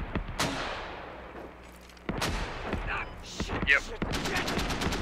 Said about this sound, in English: we're gonna hit that with mortars right now